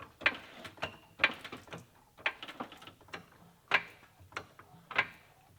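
A jack lifting a rusty first-generation Porsche Cayenne off the ground gives sharp, close ratcheting clicks and clanks in a loose rhythm roughly every second, with quiet gaps between strokes.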